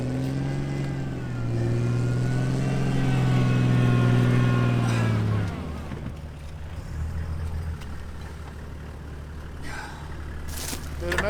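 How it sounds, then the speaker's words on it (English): A fully rebuilt Land Cruiser engine labors loudly in low range, its droning tone rising and swelling for about five seconds before easing off to a lower, rougher idle-like rumble. "I've got to get this car into low range."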